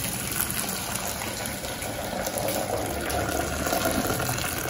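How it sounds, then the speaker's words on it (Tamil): Hot water pours off a pot of cooked rice set on a raised spot, a steady, close, splashing gush running without pause and with no talking. "ஃபஸ்ட்டு முதல்ல வெறும் தண்ணியை வடிச்சிடுவோம்."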